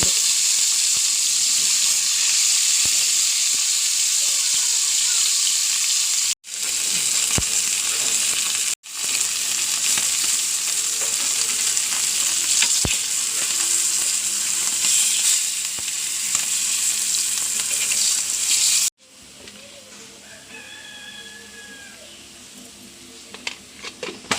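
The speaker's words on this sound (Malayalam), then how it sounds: "മീൻ വറക്കാനുള്ള ചട്ടി വെച്ചു എണ്ണ ഒഴിക്കണം" Dried fish such as mackerel and small spiny fish frying in oil in a pan, a steady dense sizzle that carries on without a break, cut short twice, then dropping to a quieter crackle near the end.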